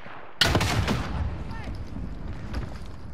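A rocket fired at a building in the shooter game Warzone, heard as a sharp loud blast with a rumbling, fading tail and scattered smaller bangs, while players talk over it.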